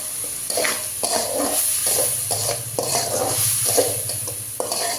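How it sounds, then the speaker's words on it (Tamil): Dried red chillies sauté in a hot pan with tomato, onion and garlic, a steady close sizzle punctuated by repeated scraping stirs of a spoon against the pan, with no talking. "இதிலே வந்து காஞ்ச மிளகா போடுறேன்"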